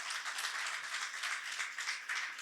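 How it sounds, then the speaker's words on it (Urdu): Sustained applause for a graduate at a Bible class, a dense, even wash of many hands clapping with no voices over it. "زوردار تالیاں ان کے لیے بجائیے"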